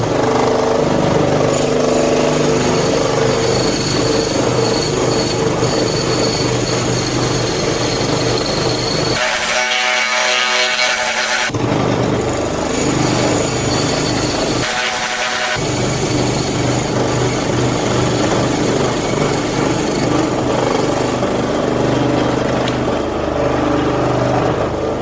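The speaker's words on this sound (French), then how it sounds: "je vais utiliser une petite scie à chantourner" A small scroll saw cuts with a continuous, loud, buzzing drone. It cuts out twice for a moment, once for about two seconds, then runs on steadily.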